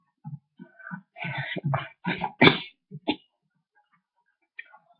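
A single person coughs in a short cluster of several throaty bursts, fairly close and clear, with quiet pauses between and one faint sound near the end.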